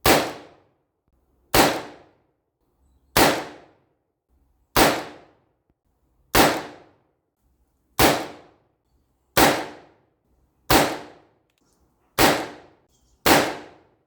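Ten sharp shots from a Colt Single Action Army 1873 revolver, fired one by one at an even pace about one and a half seconds apart, each crack loud and close with a short decay.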